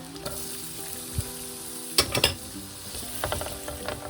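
Garlic and onion sauté in a pan for a green-sauce chicken spaghetti, a steady sizzle running throughout with a few clear scraping stir strokes partway through.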